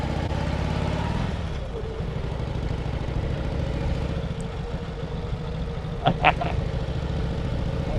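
A 1945 Indian Chief motorcycle engine rumbling low and steady while riding, with a shift down toward second gear, a few sharp clicks or squeaks over the drone near the end.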